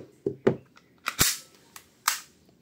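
A WE Glock WG17 Gen 4 airsoft pistol fires BBs: about six sharp, close pops come at irregular intervals with brief quiet gaps between them, and no talking is heard.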